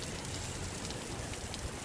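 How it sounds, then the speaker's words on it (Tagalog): Steady heavy rain in Dubai pours down as a loud, dense, unbroken hiss of drops striking surfaces, close and constant throughout. "Lakas ng ulan."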